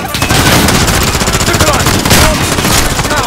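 Rapid automatic gunfire in a Call of Duty Modern Warfare campaign battle, loud dense bursts of rifle fire packed together with sharp cracks, continuous and close with no pauses.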